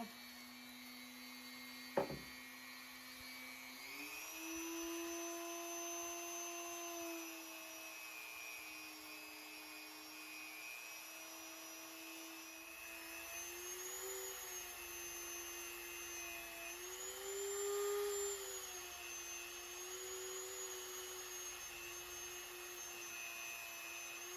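A motor-driven buffing wheel polishes a Holton H181 trombone slide with red rouge compound. The tone is a steady, whining hum that runs continuously, with slight pitch shifts as pressure changes. A single sharp knock is heard near the start.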